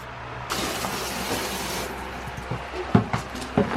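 Running water rinses something in a sink on a homestead after a raw-milk chore, a steady broadband wash with sharper splashes and clatter near the end, close and fairly loud.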